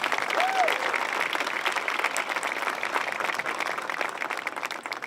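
Large audience applauding a speaker at a presidential bill-signing event for computer chips legislation, a loud, dense, continuous roar of clapping sustained throughout with crowd noise mixed in.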